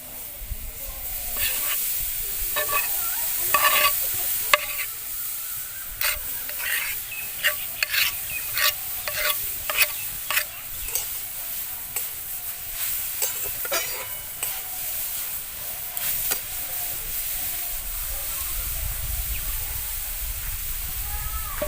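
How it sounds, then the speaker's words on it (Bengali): Grated carrots frying in a hot wok for Bengali carrot laddu, with a steady sizzle and hiss under a rhythmic series of scraping stirs from a spatula, close and fairly loud. "কড়াইয়ের মধ্যে আমি প্রথমে গাজরগুলো দিয়ে দেবো।"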